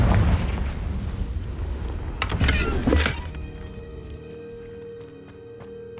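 A Confringo fire spell in Hogwarts Legacy bursts in a loud booming explosion, a rumbling blast that peaks and cuts off, followed by quieter lingering game ambience and faint tones.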